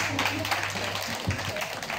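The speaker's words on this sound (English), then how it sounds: "Let's clap for her." Audience applause at a school back-to-school program in Lower Manya Krobo, a steady wash of clapping with voices mixed in underneath.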